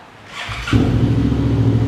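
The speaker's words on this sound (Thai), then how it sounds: "เดี๋ยวมาฟังเสียงท่อนี้กัน" A 2018 Suzuki V-Strom 650XT with an aftermarket Akrapovic-style exhaust and about 22,000 km fires up after a short starter whirr, then settles into a loud, close, steady idle with an even exhaust burble and no talking.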